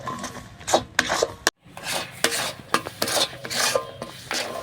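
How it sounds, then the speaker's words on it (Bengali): A spoon scrapes and rasps against a pan as palm pulp is stirred with sugar melting into it, in repeated rough strokes with a brief pause midway, close and fairly loud with no talk. "যতক্ষণ চিনিটা গলে তালের সাথে মিশে যাবে ততক্ষণ আমি একটু নেড়ে চেড়ে নেব।"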